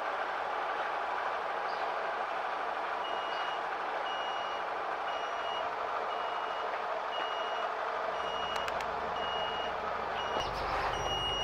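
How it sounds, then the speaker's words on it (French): A Ford Benimar Tessoro motorhome sounds its warning beep because the satellite dish is not folded, short tones repeating under a steady loud wind or engine-like rumble. "il y a un bip qui indique comme quoi la parabole n'est pas pliée"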